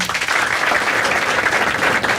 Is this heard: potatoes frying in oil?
no